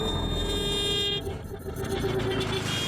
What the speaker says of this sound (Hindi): अरे ये कौन हॉर्न बजाया जा रहा बार बार?